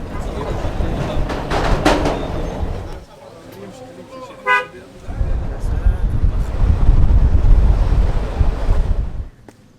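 Gusty wind buffets the microphone over rushing surf on a long beach near the Rohingya camps, with a brief car horn toot in a quieter middle stretch and a voice talking over it.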